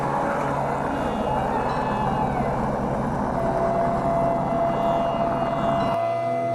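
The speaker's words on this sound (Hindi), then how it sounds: "हेलीकॉप्टर वापस गोविंद घाट जाते हुए।" A helicopter flies away toward Gobind Ghat with a steady, continuous whirring engine drone that cuts off abruptly near the end.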